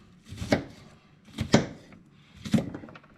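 Knife chopping onions into small cubes on a board for a winter stew, three sharp, evenly spaced strikes about a second apart, close and clear.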